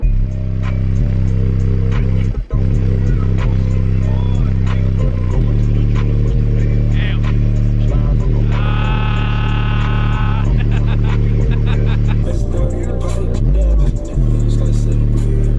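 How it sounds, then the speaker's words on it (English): A lifted truck's engine roars and revs continuously during a burnout, with people talking and shouting over it, plus a brief high whine partway through. "Do a burnout."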